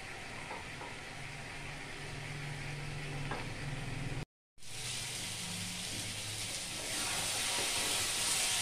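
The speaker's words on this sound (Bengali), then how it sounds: "জিরে গুঁড়ো দিয়ে এটাকে আমি খুব ভালোভাবে কষিয়ে নেব।" Cabbage with cumin powder stir-fried in a pan for a simple Bengali cabbage curry, a steady close sizzle and hiss with stirring scrapes, broken by a brief silent gap before the frying grows louder and brighter.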